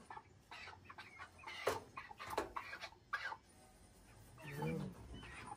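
Chickens about four weeks old on a Jamaican chicken farm, clucking and calling in scattered bursts close by, with people talking now and then around them.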